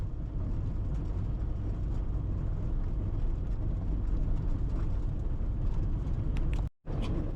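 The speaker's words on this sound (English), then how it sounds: "My car's kind of making some weird noises making this drive." Steady road noise from a car driving on a cold-weather route through Wisconsin, a continuous low rumble of tyres on the road surface with a brief dropout near the end.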